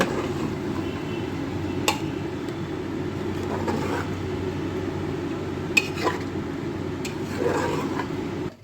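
Mutton being stirred with fried onions in a pressure cooker, steady low sizzling under scattered metallic clinks and scrapes of a spoon against the pot, moderately quiet and close.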